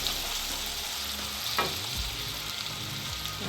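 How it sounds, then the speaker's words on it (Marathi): Tomatoes sizzle loudly in a spice tempering for a mixed winter vegetable dish, a dense continuous frying hiss with a few stirring scrapes, close up and without talk. "आता टोमॅटो टाकूया आपण टोमॅटो ह्या फोडणीमध्ये छान मिक्स होऊ द्यायचा"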